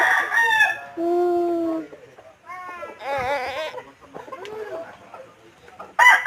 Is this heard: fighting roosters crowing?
yes